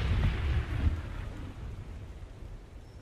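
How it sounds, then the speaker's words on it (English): Thunderstorm with rain on a riverbank, a raft tied up nearby: a loud low rumble of thunder rolls at the start and fades beneath a steady wash of rain and wind. "they tried to get some sleep with the storm all around them"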